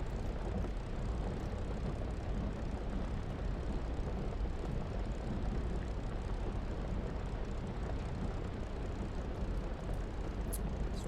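A TF-51 (P-51) propeller plane in a flight simulator game taxis toward the runway with its canopy open, a steady dense engine drone throughout, even and unbroken.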